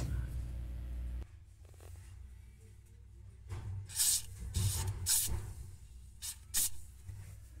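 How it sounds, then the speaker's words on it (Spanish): Penetrating lubricant sprayed onto a stuck agitator in a Mabe washing machine, heard as a few short, loud hissing bursts in quick succession, with handling noises before and between them and no talk. "pero no sin antes ponerle un poco del famoso afloja todo"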